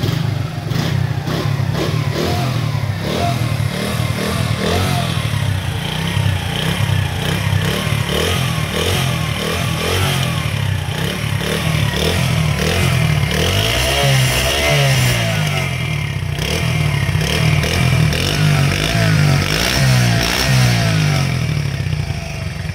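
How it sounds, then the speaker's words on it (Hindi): A ZXMCO ZX70 motorcycle engine idles loudly and close, then revs up in repeated throttle bursts with a rough, clattering rumble. "अभी हम इस बाइक को स्टार्ट करेंगे और चेक करेंगे इसके साउंड को।"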